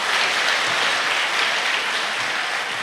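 A school awards gala audience applauds steadily and densely from start to finish, a full room of clapping at even loudness with no break.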